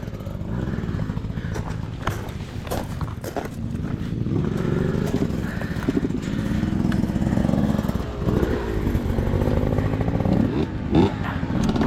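A 2022 Beta 200RR Race Edition dirt bike is ridden on a trail, its two-stroke engine revving up and down with rattling clatter, near and loud throughout.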